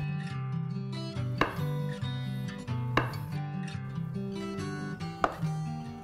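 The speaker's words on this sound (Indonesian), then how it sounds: "Ini belum saya potong, sekarang saya akan potong-potong." Knife strikes on a cutting board as tempeh is chopped, a few sharp chops spaced over a second apart, with soft background music playing underneath.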